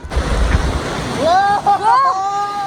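River rapids on a rafting trip at Rishikesh: rushing, splashing water fills the first second, then people shout and talk excitedly over the continuing wash of the water.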